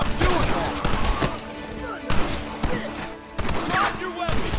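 Gunfire in the western video game Red Dead Redemption comes as rapid volleys of loud shots and thuds. Shouted voices are mixed in with the shooting.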